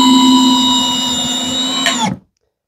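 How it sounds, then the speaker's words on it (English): A small, inexpensive compact cordless drill runs with a steady high whine for about two seconds, then winds down and stops abruptly into silence. "it's a nice compact drill"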